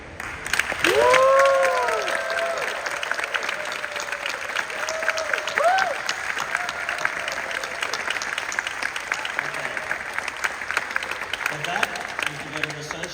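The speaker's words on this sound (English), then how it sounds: "Just for a round of applause and some recognition" A round of applause fills a room at a conference, swelling loudly at first and then continuing steadily as a crowd claps, with a few whistle-like tones rising briefly near the start.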